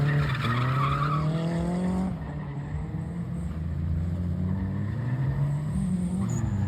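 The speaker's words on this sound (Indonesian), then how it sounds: "supaya bannya jadi licin banget dan mobil lebih gampang meluncur" Car drifting on overinflated, slick tires at a grassroots drift party in Jakarta, with a loud, continuous tire squeal that wavers in pitch alongside engine roar throughout.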